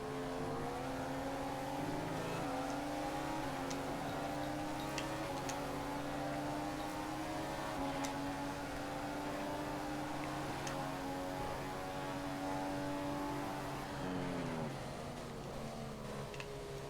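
A Formula 1 car in the F1 2015 racing game drones with a steady high engine whine, shifting pitch as it revs through gears, alongside a ticking sound and no talking.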